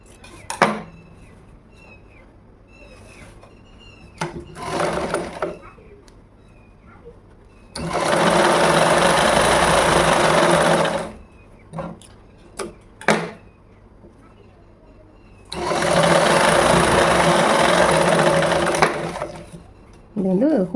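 A sewing machine stitches a ladies blouse in two long, steady runs of loud, continuous whirring with quieter pauses between them, where cloth is handled and brief clicks and knocks sound.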